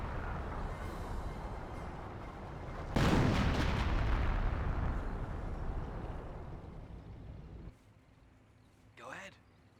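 A 25-pounder artillery barrage in the Company of Heroes video game hits as a loud burst of blasts that fades into a lingering rumble, with a voice talking over it.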